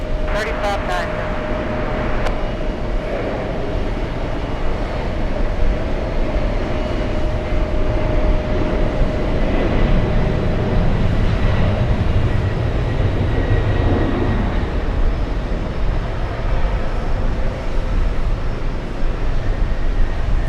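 Air Force One, a Boeing 747 jet, rumbles at JFK airport as a continuous loud roar that swells in the middle, with voices talking over it throughout.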